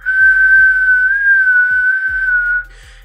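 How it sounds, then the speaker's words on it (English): A person whistles outward, blowing air out through the lips, in a single steady, clear high-pitched tone held for about two and a half seconds, close and loud, with no other sound around it. "So just get your outward whistle comfortable"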